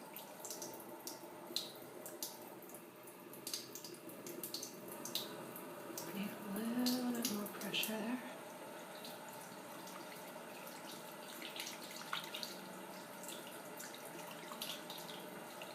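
Tap water runs steadily during a gentle hair rinse, a soft continuous splashing wash with occasional brighter drips and splatters, close and quiet, with no talking.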